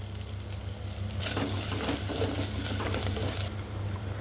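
Ginger garlic paste and turmeric are stirred in a pan of reddened frying ingredients for an eggplant-tomato curry, a steady sizzle with a busier scraping, stirring burst in the middle.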